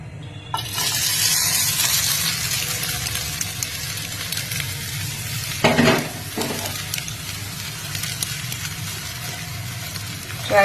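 Egg and brinjal omelette mixture frying in hot oil, a loud continuous close sizzle with a brief louder burst of crackling midway.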